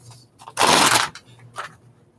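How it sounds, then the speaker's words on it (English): Sheet of magazine paper being cut with a cutter, a single loud rasping stroke of about half a second, followed by a fainter short swipe. "I'll just take the page and use my cutter and cut them down."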